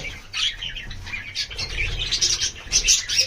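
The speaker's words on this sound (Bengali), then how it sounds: "এই হলো আমার পাখিগুলো, এদের মাঝে অনেকগুলো বেবি হয়েছে" Pet birds in a home aviary with young chicks chirp and tweet busily, with soft cooing mixed in, a continuous close chorus with no talking.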